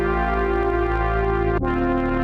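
A sustained brassy synthesizer tone, a vintage-style synth brass patch through a ladder filter in Phase Plant, holds steady, its brightness slowly sweeping down before a chord change near the end, played alone.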